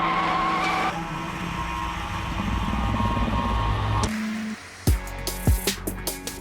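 A Mustang GT 500 muscle car roars under heavy throttle with a long rising engine note. It breaks into a series of sharp tire squeals and skids close by toward the end.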